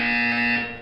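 A loud, steady electronic buzzer from the video game Portal 2 sounds in a single continuous burst of under a second, then tapers off, alone without speech.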